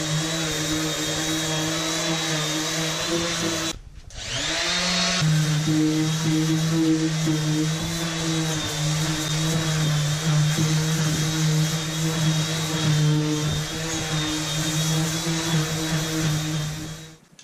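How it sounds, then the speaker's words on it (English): A power sander grinds fiberglass with 60-grit paper down inside a boat's bilge. It makes a loud, steady, droning whine that cuts out briefly partway through and then resumes at the same level. "After doing just a little bit of sanding"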